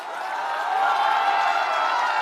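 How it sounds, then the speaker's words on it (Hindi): A large crowd at a Prashant Kishor public rally in Sheohar, Bihar, claps together in a steady, dense patter of applause that holds at an even loudness throughout. "अब इसके लिए बजा लो ताली"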